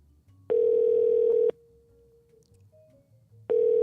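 Telephone ringing on an unanswered call: two long electronic ring tones, each about a second, separated by a three-second gap, steady and clear over a quiet background.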